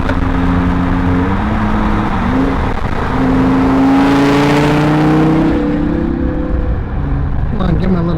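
An Audi R8 sports car runs alongside as engine tones rise and fall, with a broad whoosh swelling and passing near the middle, all under a constant loud cabin drone.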